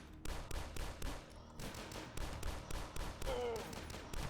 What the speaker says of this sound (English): Oh my goodness, they're shooting.